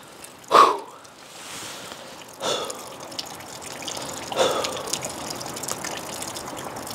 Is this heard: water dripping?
yes